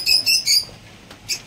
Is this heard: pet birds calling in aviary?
yes